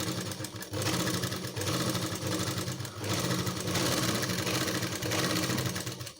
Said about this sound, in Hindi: तो पहले मैं इसको चला के देखती हूँ कि अगर सही आती है सिलाई